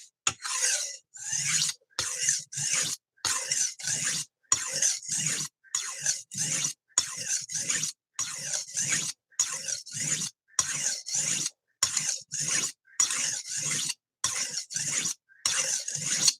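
A knife blade rubbed in repeated rasping strokes against a sharpening surface, a steady rhythm of about two dozen short, close scrapes separated by brief silences.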